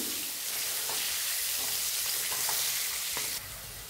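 Bitter gourd frying in a pan, a continuous close sizzle with a few light stirring taps, the hiss dropping a little near the end.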